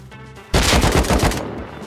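A burst of rapid automatic gunfire in the video game Rust plays loud and close for about a second, then trails off into a faint echo.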